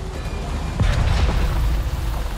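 A cooling unit being destroyed in Avatar Frontiers of Pandora gives a deep, rumbling boom that erupts sharply and then rolls on as a sustained low roar, loud and close with no talk over it.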